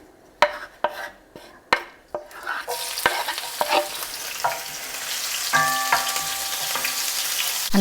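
Chili hits hot olive oil in a pan, a few sharp clinks and taps of utensils giving way to a loud, growing sizzle and crackle of frying that continues to the end.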